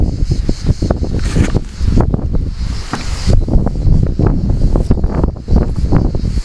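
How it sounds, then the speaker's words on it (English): Gusty wind on an open hilltop beside a small solar and wind turbine setup buffets the microphone in bursts and surges, loud and close, with a rushing roar rising and falling throughout. "kind of a windy day"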